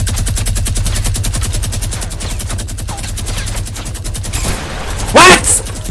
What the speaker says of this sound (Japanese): ガトリングですね。